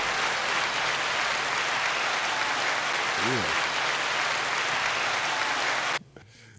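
Sustained applause fills a podcast studio for about six seconds, dense and steady, then cuts off abruptly; a voice speaks briefly over it.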